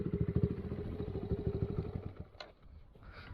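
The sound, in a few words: Kawasaki KLX110 minibike with Timbersled snow kit riding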